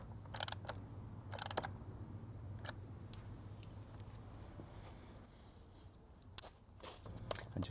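Short bursts of ratchet clicks from a 13mm socket tightening a radiator guard bolt on a Ducati Multistrada V4 motorcycle, in a few separate clusters with quiet gaps over a low steady hum.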